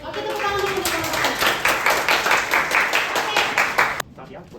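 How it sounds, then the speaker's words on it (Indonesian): Classmates clap together in a school classroom after a presentation, a dense, steady round of applause lasting about four seconds before cutting off abruptly, with a voice talking over it. "tepuk tangan dulu teman-teman"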